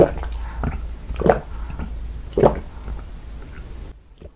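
Close, wet chewing and squishy bites of chocolate cake and ice cream desserts, several distinct mouthfuls spaced about a second apart with soft smacking in between.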